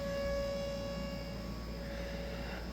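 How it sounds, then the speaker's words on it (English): A distant siren holds a steady, sustained wail over a low background hum, with no voices. "I hear the sirens."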